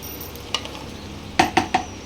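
Small pieces of potato in a pan of hot oil, a steady sizzle underneath, with a spoon scraping and clinking against the pan in a few sharp stirs near the end.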